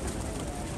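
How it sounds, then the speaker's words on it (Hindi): A flying pigeon coos softly amid a loud, broadband wash of outdoor noise that nearly swamps the brief call. "ये उड़ने वाला कबूतर है"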